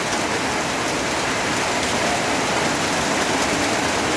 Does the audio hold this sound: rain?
yes